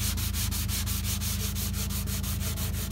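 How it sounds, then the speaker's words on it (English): Sandpaper lightly scuffs a finished composite wing surface ahead of primer, with a fast, even back-and-forth rasp of roughly four to five strokes per second. The sound is close, steady and alone. "I just wanted to scuff the surface, getting it ready for primer, but this is what happens. Just a bit of light scuffing."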